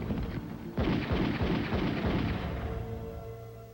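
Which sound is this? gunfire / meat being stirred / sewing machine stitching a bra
gunfire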